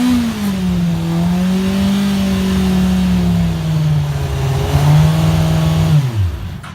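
A Yamaha R1 sport motorcycle engine with a starting fault runs loudly and unevenly close by. Its pitch wavers and sags, then the engine winds down and cuts out near the end.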